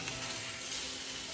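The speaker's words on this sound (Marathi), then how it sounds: "ते आता आपल्याला तव्यावरती पापलेट फ्राय करून देणार आहेत" Pomfret fish fry on a hot griddle at a Konkan-style eatery in Ratnagiri, giving a steady, close, dense sizzle with no talking.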